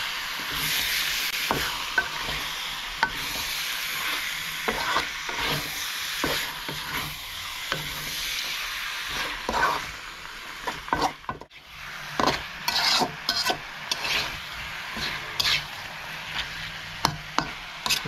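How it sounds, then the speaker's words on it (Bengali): Beef sautéed with spice paste and green chilies in a pan, a dense steady sizzle overlaid with frequent rhythmic scraping strokes of a stirring spoon, the stirring growing choppier toward the end. "এখন এই মাংসগুলো ভালো মতো কষিয়ে নেব মশলার সাথে।"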